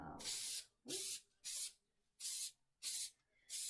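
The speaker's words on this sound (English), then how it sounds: "when you're putting your glue on, because this stuff does spray all over." Six short bursts of spray glue hiss from an aerosol can, evenly spaced with brief pauses between, close and fairly loud.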